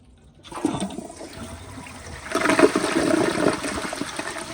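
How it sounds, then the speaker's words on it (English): A 2022 Kohler Highline round-bowl toilet flushes nearby, a rushing swirl of water that rises, eases briefly, then surges again into a full drain and refill, with no talking. "But here is another flush."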